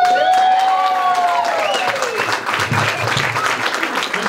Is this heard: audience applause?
yes